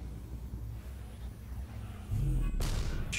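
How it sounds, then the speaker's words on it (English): Gunfire rings out in the shooter video game Destiny during a Vault of Glass raid, a few muffled low thuds followed by a sharp, louder burst of shots near the end. "Shooting."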